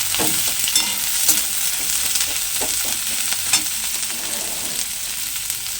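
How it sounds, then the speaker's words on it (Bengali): Chopped onion, green chili and potato sizzle loudly in oil in a pan, with a steady hiss and the scrape of stirring throughout. "পেঁয়াজ কুচি, কাঁচা লঙ্কা কুচি, একটু নেড়েই আলুটা দিয়ে দেবো"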